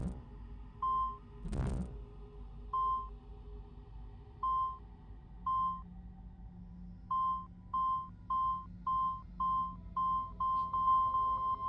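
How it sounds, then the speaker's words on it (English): Short electronic beeps from the video game Assassin's Creed 2 repeat at first sparsely, then speed up into a quick regular series, with one brief louder thump early on over a quiet low hum. "I kept getting a beep up here."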